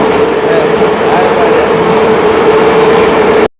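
Ride aboard a quiet metro train in Baku, Azerbaijan: a loud, steady rumble with a constant hum inside the carriage, continuous until it cuts off abruptly at the end.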